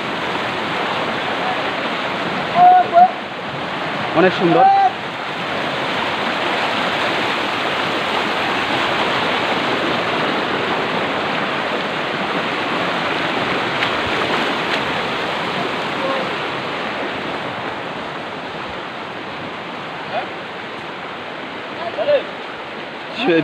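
A steady, loud roar of rushing water from a waterfall fills the whole stretch, with a couple of brief voices speaking over it.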